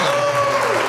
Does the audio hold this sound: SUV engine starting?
no